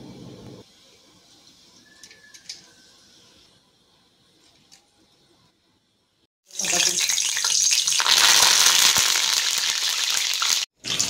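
Roasted chana dal goes into hot oil for garlic sev. Several quiet seconds with faint clinks come first, and then a loud, sustained sizzle of frying starts abruptly.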